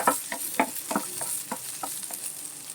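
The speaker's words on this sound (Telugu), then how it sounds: "అదే పాన్లో మళ్ళీ కిస్మిస్ కూడా వేసేస్తున్నానండి. ఇవి కూడా దోరగా వేయించేద్దాం." Raisins (kismis) frying in a pan and being stirred, a soft steady sizzle with several sharp scraping and stirring knocks near the start that thin out toward the end.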